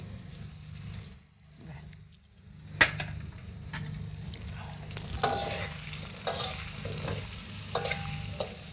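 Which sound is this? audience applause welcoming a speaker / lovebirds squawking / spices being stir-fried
spices being stir-fried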